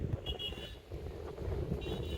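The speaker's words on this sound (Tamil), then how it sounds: "காற்று அப்படியே அடிச்சுட்டே இருக்குது பாருங்கள்." Gusty wind in the hills of Ooty buffets the microphone with a low, rumbling roar, punctuated by faint higher whistles, outdoors and fairly steady throughout.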